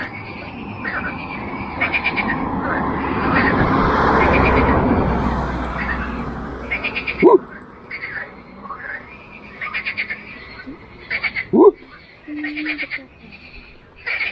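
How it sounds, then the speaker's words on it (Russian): Frogs croak in short repeated bursts from a little distance by a stream in Crimea, over a wash of outdoor noise and a passing rustle, with occasional quiet voices. "А тут квакают"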